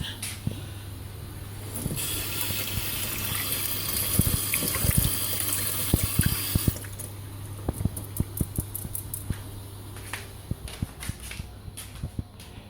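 A small blue plum is rinsed under a running kitchen tap. The flow starts as a steady, close rush of water lasting about five seconds, then stops, leaving scattered drips and light handling clicks.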